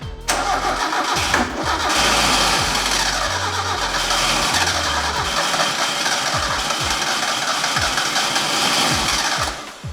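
A budget car engine cranks over and over on the starter with the fuel pump unplugged, a steady close, loud rhythmic churning that runs without pause for nearly the whole stretch and never catches.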